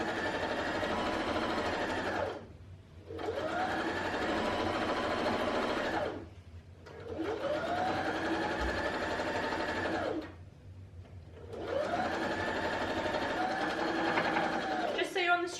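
A sewing machine stitches bias-cut binding around an oven mitt in three long, loud, steady runs, with brief quiet gaps between bursts where the motor stops.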